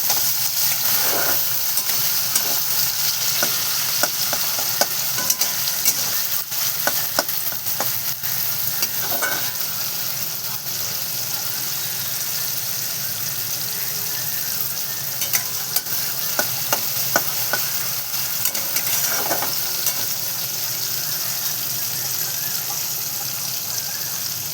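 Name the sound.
stirring and frying fenugreek leaves in a pan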